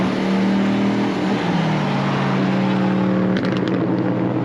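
Modified Honda Civic Si engine droning loud and steady at close range, holding a sustained rev with slight pitch shifts and a brief drop near the end.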